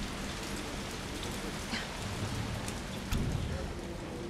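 A heavy rainstorm in the video game Resident Evil 3 Remake roars as a dense, steady downpour with a low rumble swelling near the end, no speech over it.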